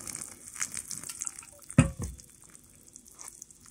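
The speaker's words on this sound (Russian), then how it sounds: "В общем, буду заливать водой." Hot water from a kettle is poured into Chinese instant noodles with meat and vegetables: a faint, steady splashing hiss with one soft thump midway and no talking.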